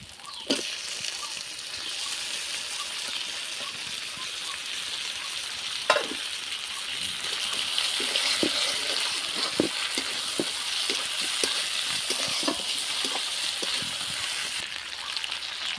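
Dried chili paste and chopped tomato hit a hot pan with a sudden sizzle that settles into a steady frying hiss, then a run of light scraping stir strokes near the end. Nobody speaks.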